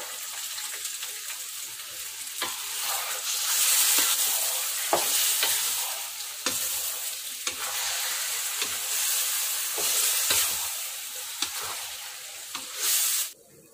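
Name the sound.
pork adobo frying and being stirred in pan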